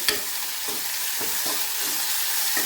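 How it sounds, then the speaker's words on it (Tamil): Onion and tomato sautéing in a hot pan with salt, a constant bright sizzle with rhythmic stirring scrapes about every half second, close and alone. "வெங்காயம் தக்காளி எல்லாம் நல்லா வணங்கிச்சு"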